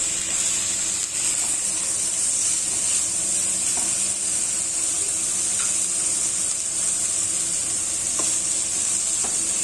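Boiled banana flower sizzling as it fries in a pan with coconut, a steady, loud hiss that runs throughout with faint scraping of stirring.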